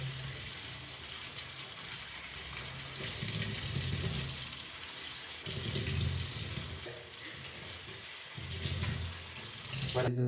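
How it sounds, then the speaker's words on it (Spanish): Tap water runs steadily and fairly loudly while dyed acrylic fiber is rinsed in abundant water, splashing continuously with slight surges, with no voice heard. "Este proceso se debe realizar con abundante agua."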